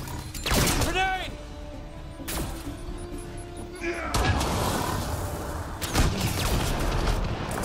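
Grenade blasts and combat clatter in Mass Effect Andromeda: several sharp crashing bursts and booms, with whooshing weapon effects and mechanical rattles, loud and close, broken up by a couple of quieter gaps.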